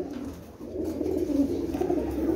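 A pair of Jonsira Teddy pigeons cooing nearby, low throaty rolling coos repeating steadily over a couple of seconds without speech.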